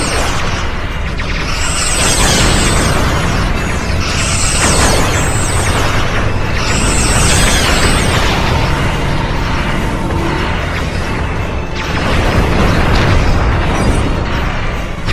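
Starship weapons fire and heavy explosions in a Star Trek battle: loud booming blasts and rumbling bursts rolling continuously, with sharp whooshing bolts cutting through at intervals.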